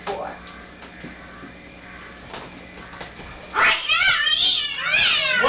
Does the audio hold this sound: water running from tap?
no